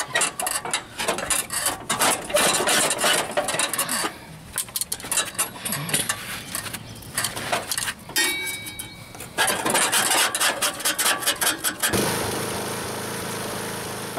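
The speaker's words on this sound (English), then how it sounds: "take a putty knife or a scraper and just go ahead and clean some of this grass off from under the deck" A putty knife scrapes packed grass from under the deck of a Troy-Bilt Pony riding lawn mower in rapid, irregular bursts of metallic scratching, close up, pausing briefly before a steadier hiss near the end.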